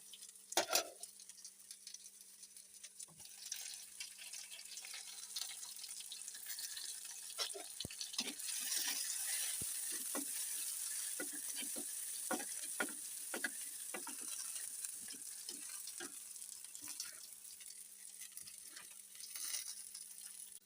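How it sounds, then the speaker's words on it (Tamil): Sautéing in a pan on a low flame: a continuous gentle sizzle runs throughout, punctuated by repeated spatula scrapes and clicks from stirring, quiet and close, with no talking. "சிம்மில் வச்சுட்டு நம்ம வந்து வதக்க ஆரம்பிச்சிடுவோம்"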